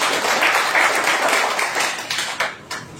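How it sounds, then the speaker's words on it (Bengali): Audience at a college organisational meeting and Eid gathering in Amtala College, Nowda, breaking into dense, loud clapping that fades after about two and a half seconds. "একটা জোরে হাত তালি ওনার জন্য"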